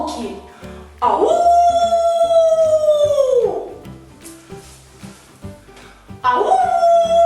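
A voice imitates wolves howling in a forest, with a long rising and falling howl in the middle and a second howl starting near the end. Both are loud and close over a rhythmic musical backing.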